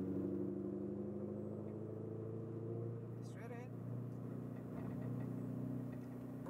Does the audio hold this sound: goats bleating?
no